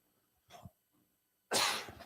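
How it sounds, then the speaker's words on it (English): A sharp, forceful throat clearing bursts out close to the mic after a brief softer vocal sound, ending abruptly. "Excuse me as I clear my throat."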